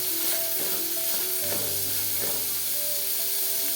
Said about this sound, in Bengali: এই চিংড়ি মাছ হলো নদীর চিংড়ি মাছ তার জন্য লাল হচ্ছে না কিন্তু লাল করে ভেজে নিতে হবে